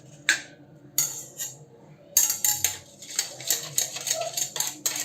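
Spoon or whisk clinking and scraping against a bowl while beating a chilli powder and salt marinade for homemade KFC-style chicken, close and irregular taps, sparse at first then a quicker run of strokes.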